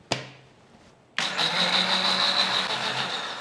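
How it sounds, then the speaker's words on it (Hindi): A kitchen mixer grinder grinding rice with milk for kheer: a short sharp knock, a brief pause, then the motor starts abruptly and runs steadily with a loud, dense whirring hum to the end. "इस तरीके से अच्छे तरीके से ग्राइंड कर लेना है।"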